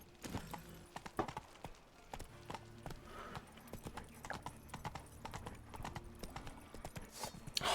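Roach the horse galloping in the video game Witcher 3, rapid rhythmic clip-clop of hooves on the ground, close and continuous, with occasional louder thuds and game ambience.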